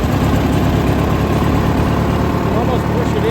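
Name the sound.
new riding lawn mower engine starting and idling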